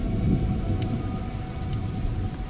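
Steady rain falls in the game A Plague Tale: Innocence, a dense, even hiss of drops on surfaces, with a faint low rumble beneath and no voices.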